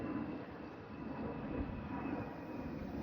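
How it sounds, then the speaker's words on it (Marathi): A low, steady engine rumble fills the whole stretch, continuous and fairly loud, like an aircraft passing close overhead. "हे पा मंडळी किती घालून विमान चाललंय"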